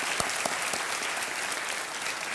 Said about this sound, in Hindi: तालियों से आपका हम स्वागत करते हैं।